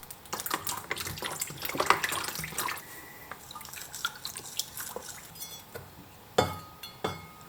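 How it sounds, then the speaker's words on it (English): A rusty old hoe is set down into a container of water for electrolysis rust removal, giving scattered drips, splashes and metallic clinks of varying loudness, with a sharper splash near the end. "Now I throw this in the water, but I make sure that it's away from the first piece."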